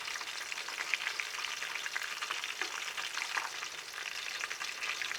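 Chicken pieces sizzling in a pan as they are turned one by one, a steady close crackle of hot oil with light scraping and soft clatters of the utensil, no voices.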